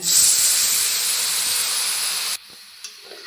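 Water poured into a hot pan of frying jackfruit seeds with mustard hisses loudly and steadily, then cuts off abruptly to a quieter simmer with faint stirring clicks.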